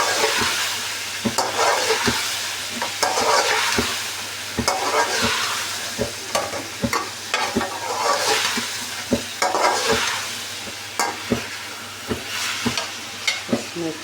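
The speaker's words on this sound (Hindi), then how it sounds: "इसमें अच्छे से भून लेते हैं।" Chicken, potatoes and tomatoes fry in a pot, giving a steady sizzle. A spoon scrapes and clacks against the pot in a regular stirring rhythm, close and clear, with no talking.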